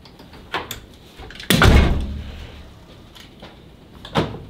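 A Renault Megane 3 RS car door shuts with one solid, close thump, followed by a few softer clicks and knocks before and after.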